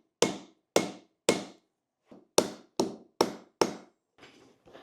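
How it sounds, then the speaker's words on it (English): A hammer peen strikes a metal washer to flatten it. About eight sharp, ringing blows land at an even pace, with a pause partway through and two softer taps at the end. No one speaks. "Couple hits to flatten it out. And you can hit it with the peen."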